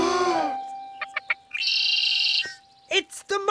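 A cartoon Muckle Bird gives a loud sequence of whistling, warbling calls and short chirps, with stretches of sustained tone broken by quick bursts and brief pauses.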